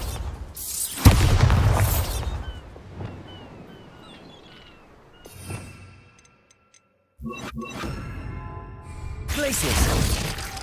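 A Bombarda blasting spell explosion in Hogwarts Legacy, a loud booming blast with shattering debris that fades away, followed after a near-silent pause by more rumbling and a second heavy burst near the end.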